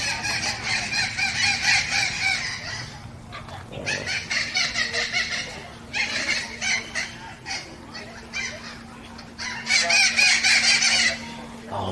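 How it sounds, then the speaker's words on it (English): Excited birds calling at a zoo, loud clucking and crowing-like calls in repeated bursts with short pauses between, close by, over a steady background hum. "Got some very excited birds over here."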